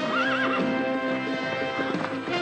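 A horse whinnies with a rising and falling call, followed by hooves clip-clopping over a steady background tone, from the film Thomas and the Magic Railroad.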